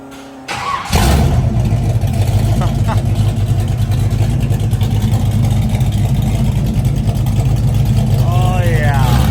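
A burnout truck engine fitted with new boom tube exhaust starts with a short crank, then holds a loud, steady rumbling idle with a few light revs, close by, as people talk over it.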